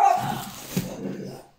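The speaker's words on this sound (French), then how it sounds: "les chiens ont aboyé puisqu'il y avait quelqu'un qui avait tapé à la porte" Several dogs bark and whimper indoors after a knock at the door, a burst of yips and whiny barks up close that fades into quieter whining near the end.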